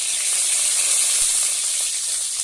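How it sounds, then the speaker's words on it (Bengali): Green chilies and two bay leaves hit hot oil as a tempering for a village-style small fish dish, giving a loud, dense, unbroken sizzling hiss close by, with no talking. "ওর মধ্যে কাঁচা লঙ্কা, দুটো তেজপাতা ফোড়ন দিলাম।"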